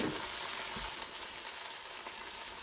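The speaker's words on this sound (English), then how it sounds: "Now I'm going to add 2 to 3 tablespoons of the oyster flavor sauce," Oyster flavor sauce sizzling in a hot pan for Chinese cooking, a steady bright hiss of frying that holds evenly throughout with no talk.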